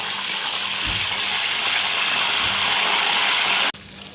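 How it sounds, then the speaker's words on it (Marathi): Salt water pouring steadily into a vessel of hot oil frying raw banana chips, a continuous rushing hiss that stops abruptly near the end. "मिठाचं पाणी यामध्ये ऍड करायचं"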